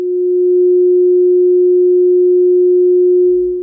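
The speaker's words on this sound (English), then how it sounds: "the circle and square will both have the same tone" A pure sine tone tied to the circle and square shapes holds steady and loud at a single pitch for about three and a half seconds, fading in and out smoothly with nothing else heard.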